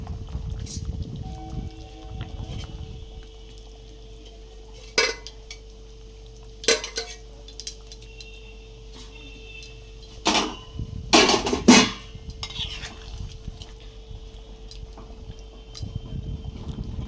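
Small fish are slipped into a simmering pot of potato fish curry, giving a few clattering knocks of utensil against metal and soft splashes. A quiet, steady bubbling hum continues underneath.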